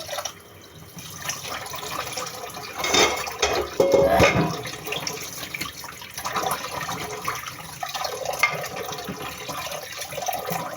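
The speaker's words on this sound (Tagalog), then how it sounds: "Malakas ang tubig namin dito." Water gushes steadily from a tap with a rushing, splashing hiss that swells louder for a few seconds before settling back to an even flow.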